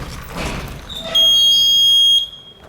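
A steady electronic buzzer on a working model car sounds for about a second, loud and shrill, after a stretch of softer whirring and noise.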